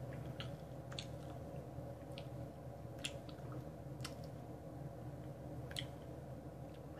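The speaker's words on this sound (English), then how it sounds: "like more of like the lip smacking kind of chew" Close-up ASMR chewing with lip smacking: faint, wet clicks and squishes at irregular intervals over a steady low background hum, with no talking.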